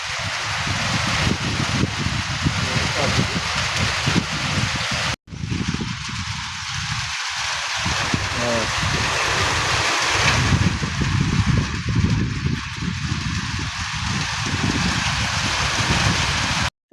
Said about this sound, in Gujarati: જુઓ ગાઈઝ વરસાદ ચાલુ થઈ ગયો છે અત્યારે એકદમ ખાસ.